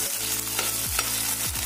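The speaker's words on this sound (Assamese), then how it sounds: "এতিয়া মই এই একেখিনি তেলতে যিখিনি পিঁয়াজ কাটি ৰাখিছিলোঁ সেইখিনি দি দিম। পিঁয়াজখিনি আমি গোল্ডেন ব্ৰাউন হোৱালৈকে ফ্ৰাই কৰিম।" Chopped onions frying in oil toward golden brown while cooking okra, a steady close sizzle with a few scraping stirs of the spatula, no talk.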